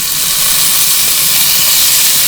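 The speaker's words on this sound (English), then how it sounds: "now I'm chopping up the pork belly slices and we're just heating up the pan to brown it off" Pork belly slices sizzle in a hot pan, giving a loud, continuous, steady hiss with no pauses and no voices.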